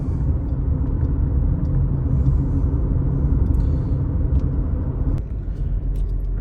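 A Kia Sportage cruising in sport mode after an intake valve cleaning gives a steady, low engine and road rumble from inside the cabin, constant throughout with no talking.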